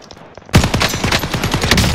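Rapid bursts of automatic gunfire in Warzone crackle loudly and continuously, dense overlapping shots close by after a brief quieter moment.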